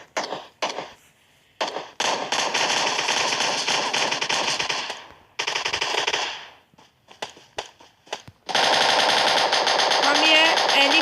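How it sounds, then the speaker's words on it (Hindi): Gunfire in a PUBG arcade quick match: loud, close bursts of automatic fire with rapid rounds, separated by short pauses, then a longer sustained volley toward the end. "हम ये एनिमी पर बरसा रहे हैं गोलियां और हमने उसे नॉकआउट कर दिया।"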